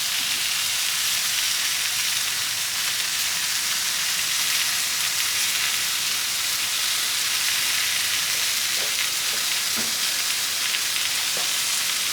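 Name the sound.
burger patties sizzling on grill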